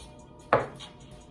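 A single sharp knife chop through a ceviche ingredient on a cutting board, one close, crisp thud against a quiet kitchen background.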